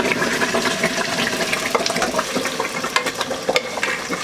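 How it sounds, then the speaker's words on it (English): Tomato sauce for jollof rice sizzles and splutters hard in a hot pot, a loud continuous hiss with crackling bursts and no talking. "I'm frying all the sauce because I'm going to use some for the chicken."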